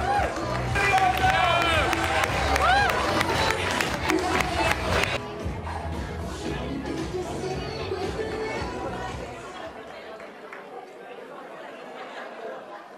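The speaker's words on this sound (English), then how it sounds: "Everyone, give a big round of applause." Audience applause and cheering at a black tie magic show: loud, dense clapping from the crowd with chatter mixed in, tapering off into quieter murmuring toward the end.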